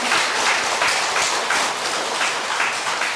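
A church congregation at a Sunday service applauds in thanks, a dense, continuous wash of many hands clapping that fills the space, steady and fairly loud throughout the short stretch.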